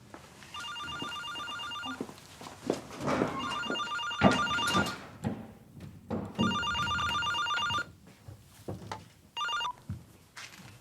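An electronic telephone rings in repeated bursts of bright trilling tones with short gaps between them, moderately loud indoors, with some clatter and movement sounds in between.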